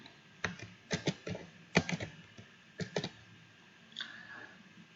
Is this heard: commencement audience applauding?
no